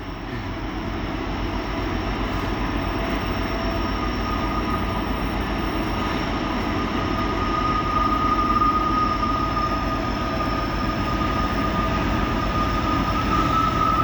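A CSX coal train pulled by three GE Evolution-series locomotives grinds past through snow on the old B&O main line, a continuous heavy roar with a sustained high whine from the rails, loud and steady throughout.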